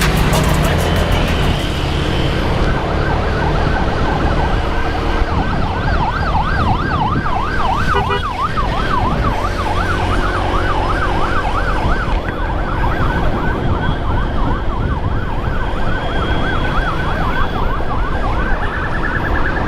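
An emergency ambulance siren wails loud and close in a steady, repeating up-and-down cycle throughout, over the rumble of road traffic and a motorcycle escorting it.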